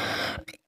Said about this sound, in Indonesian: Aku lagi batuk guys, lagi pilek, batuk pilek ya